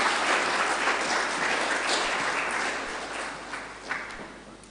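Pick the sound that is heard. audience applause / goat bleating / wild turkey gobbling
audience applause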